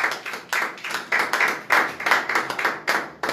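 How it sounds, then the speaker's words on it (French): Church congregation clapping in a steady rhythmic beat, loud and close, with no talk over it. "C'est ce qu'on peut acclamer très fort pour la gloire."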